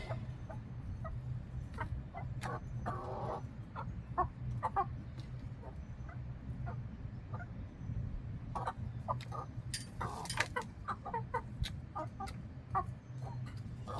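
Backyard hens cluck and chatter in a run in a garden setting, a steady low murmur of soft clucks with frequent sharper calls scattered throughout, fairly close and continuous with no talking.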